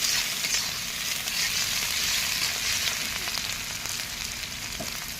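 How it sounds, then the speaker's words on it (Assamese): Onions with garlic frying in a pan, a loud continuous sizzle with crackling spatter heard close, steady throughout with faint stirring and no voices. "পিঁয়াজখিনি ৰঙাকৈ মই ভাজি লৈছোঁ"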